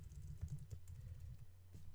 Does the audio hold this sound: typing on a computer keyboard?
yes